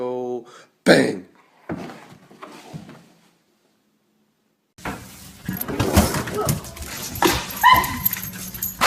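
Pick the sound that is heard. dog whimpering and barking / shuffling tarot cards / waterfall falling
dog whimpering and barking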